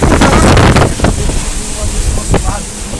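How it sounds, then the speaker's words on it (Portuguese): Strong gale winds roar and buffet the microphone during a storm in Brazil, loud and close, with gusting surges and rumbling under occasional voices. "Olha a ventania."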